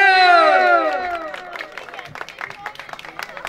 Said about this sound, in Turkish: Yok mu dayıya bir alkış?